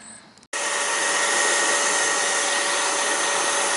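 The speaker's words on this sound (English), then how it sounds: "but I'm just using the extractor" Rug Doctor Pro carpet extractor cleaning a car interior, switching on abruptly after a quiet moment into a loud, steady high-pitched suction whine that holds without a break.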